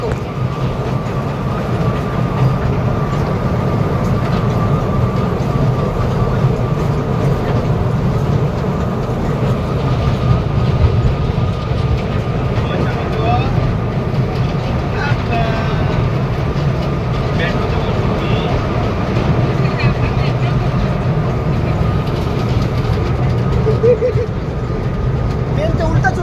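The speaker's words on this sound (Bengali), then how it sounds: "ট্রেনটা উল্টা চলতেছে বাবা।" Train running backwards along the railway line: a loud steady rumble and rattle of moving carriages close by, continuing throughout, with people talking over it.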